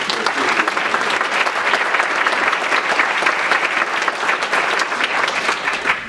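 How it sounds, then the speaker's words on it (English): Loud, sustained applause from the audience at a business community meeting, dense even clapping that fills the full six seconds without pause. "he deserves a huge round of applause"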